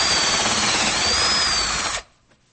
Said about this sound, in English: First thing I need to do is drill a hole in the back of the cabinet.